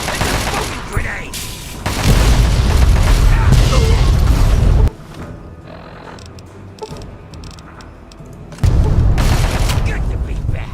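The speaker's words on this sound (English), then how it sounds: "It's a smoking grenade!" A grenade blast in the game Fallout: Tale of Two Wastelands, heard as loud, rumbling booms and crackling gunfire-like bursts up close, dropping to a quieter stretch of scattered clatter before the heavy roar returns.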